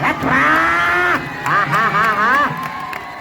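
Bulls at a ploughing race in Palu, Lanja, low in long, wavering calls, close and loud, over the murmur of an outdoor crowd.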